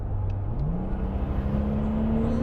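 A Brabus G800 with an 800-horsepower V12 pulls hard under acceleration, a loud close engine drone rising in pitch and holding steady as the vehicle gains speed, with no talking.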